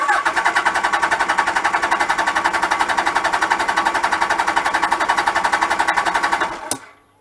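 A Suzuki GS1000 motorcycle engine cranks on its starter at full throttle for a compression test, a loud, fast, even chugging pulse running steadily for several seconds before stopping abruptly with a final clunk.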